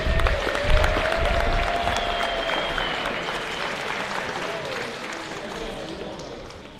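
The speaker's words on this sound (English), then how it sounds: "Give another round of applause for all of our seniors." A crowd applauds the seniors before a Moc Valley Prep vs. Hamilton Heights game, a broad wash of clapping across a gym that slowly fades, while an announcer's voice carries over it.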